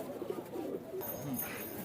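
Pigeons coo softly in a low, warbling murmur at a pigeon market in Khalishpur, Khulna, Bangladesh, a few short calls close by over faint background noise.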